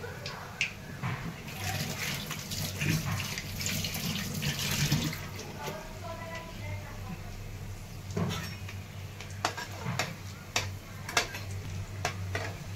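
Medu vada, crisp lentil fritters made without soda, deep-frying in hot oil: a steady close sizzling hiss with scattered crackles and a few sharp pops, over a low continuous hum.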